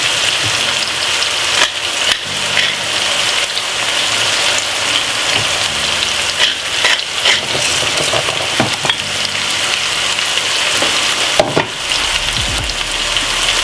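Vegetables, saltfish and okra with thyme and pepper frying in a pot give a loud, continuous sizzle, close up, broken by repeated scraping and clanking strokes of a stirring spoon, with no talking.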